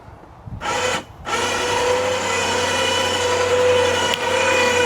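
Electric winch mounted on a golf cart for a toy hauler running, a loud steady motor whine with gear hum, briefly starting, stopping, then running continuously close by.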